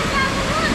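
A small waterfall on the River Gade in Cassiobury Park, Watford, gives off a loud, steady, close rush of falling water, and a voice can be heard over it.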